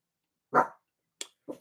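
A dog gives one sharp bark and then two shorter, quieter yips, close by and alone against silence.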